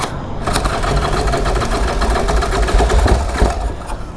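The engine of the Susie chopper motorcycle, fitted with old-fashioned compression releases and not started in a while, is cranked over with a steady, dense mechanical churning that carries on for several seconds, close and loud.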